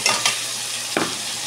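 Milkfish (bangus) dropped into a hot pan gives sharp crackling bursts followed by a steady close sizzle, with no talk.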